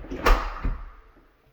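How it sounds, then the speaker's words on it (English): A new oven door swings open in a finished spec house kitchen, giving a quick swishing thud followed by a second softer knock, close and fairly loud with no talking. "I got that door open because I always like to heat the oven up as high as it'll go"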